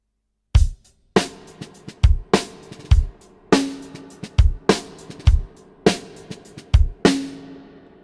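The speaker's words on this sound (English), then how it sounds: "But if I play them as ghost notes, it sounds like this." A drum beat with ghost notes: strong backbeat hits alternate with softer, quieter in-between strokes, giving a lighter, bouncing groove with no voices.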